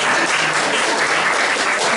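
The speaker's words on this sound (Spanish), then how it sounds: "Un aplauso." An audience bursts into dense, even clapping after a talk, a continuous close wash of many hands at steady loudness with no voices over it.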